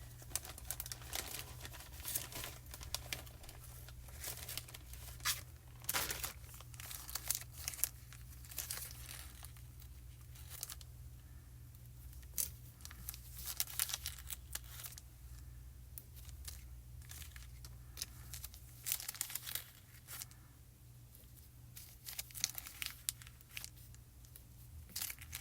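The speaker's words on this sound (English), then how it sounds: "I think I'm going to put some very thin foam tape on here, and then we're going to put foam tape on the whole thing." Thin foam tape handled close up at a craft table, quiet crinkling, peeling and tearing noises scattered irregularly over a steady low background hum.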